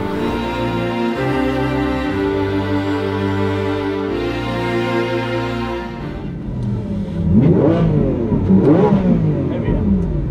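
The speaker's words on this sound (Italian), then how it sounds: "E adesso proviamo una macchina vera, Aventador." A 700-horsepower Lamborghini Aventador setting off on a track: a loud, steady harmonic engine drone, then repeated rising and falling revs near the end.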